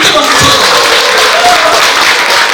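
Audience applause at a Buddhist book-launch ceremony in a Korean temple hall: steady, dense clapping from a crowd filling the whole stretch, with a brief tonal sound and faint voices mixed in.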